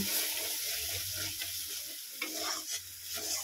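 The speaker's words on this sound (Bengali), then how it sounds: "ডাল চচ্চড়ি হচ্ছে, ডাল চচ্চড়ি।" Dal chorchori frying and being stirred in a pan, a steady close sizzle with scraping stir strokes running throughout and no talk over it.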